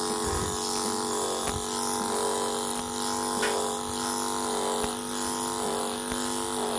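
Electric clippers fitted with a longer snap-on comb buzz continuously while grooming the rear of an Old English Sheepdog, with faint ticks as the blade moves through the coat.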